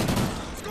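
Dense gunfire from a first-person shooter firefight in the Extinction Awakening mode, with a rapid burst of shots up close that trails off into a steady wash of shooting for under a second.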